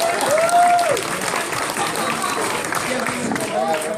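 Audience applause at a stage hypnosis show at a campsite, a broad wash of clapping that swells early then settles into a steady patter, with a voice speaking over it.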